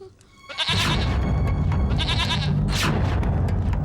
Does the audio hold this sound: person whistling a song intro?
no